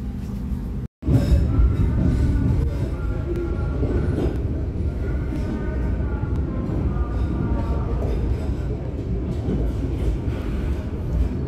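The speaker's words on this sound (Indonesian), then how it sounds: "kereta api Pandalungan diberangkatkan kembali dari stasiun Pasuruan" The Pandalungan passenger train runs on after departing Pasuruan station, a loud continuous rolling rumble with rhythmic wheel clatter and shifting metallic tones heard from onboard, starting after a brief cutoff.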